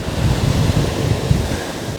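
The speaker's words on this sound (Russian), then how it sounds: "Как волна разбивается, видали?" Sea waves breaking on a muddy, murky shore in Vietnam, a loud continuous rushing surf with heavy wind buffeting the microphone and no talking.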